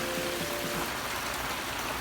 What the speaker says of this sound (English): It's Saturday morning and it's raining